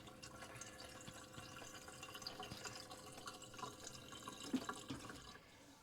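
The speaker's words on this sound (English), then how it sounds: "there comes the water out of here" Water runs steadily from the spout of a reverse osmosis system in an RV, with a broadband rushing and trickling texture, moderately close, with no voices.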